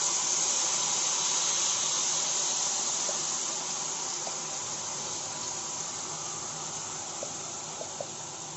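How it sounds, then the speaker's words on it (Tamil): Mashed banana stirred and cooked in ghee in a pan, a steady frying sizzle and hiss throughout, slowly easing, with a few faint scraping ticks near the end. "நல்லா வாழைப்பழத்தை நெய்யிலேயே கிண்டி எடுத்துக்கோங்க."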